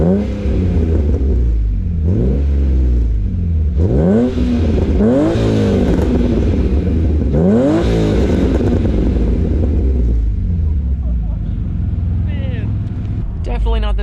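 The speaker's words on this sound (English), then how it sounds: "Maybe I can set this down here and get a little bit of exhaust." A BMW E36 M3 with loud headers revs hard outdoors, its exhaust heard close in several rising and falling bursts, then settling into a rough idle with some light clatter.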